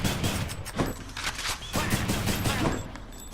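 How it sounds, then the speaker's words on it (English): Rifle with grenade launcher firing in the video game Hades, rapid bursts of gunfire crackling continuously and loudly with dense overlapping shots throughout. "This is just a straight-up rifle"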